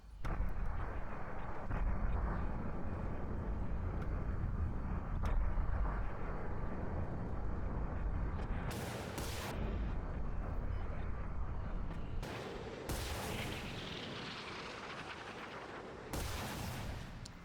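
A bomb explosion in the video game War Thunder, dropped from an Su-34 jet: a heavy, low rumbling roar that fills the whole stretch, with bursts of louder crackle and blast layered on top.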